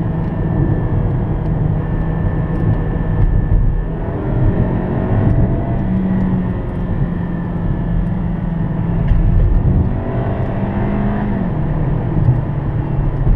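A Hyundai Sonata accelerates along a small road, heard from inside as a steady engine drone and tyre rumble with the pitch slowly rising and falling, loud and continuous.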